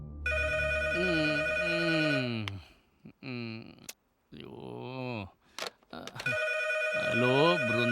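A mobile phone ringing at a hospital in a Kannada thriller film, with a repeating electronic ringtone melody that plays in bursts, broken by short pauses and sounds of movement.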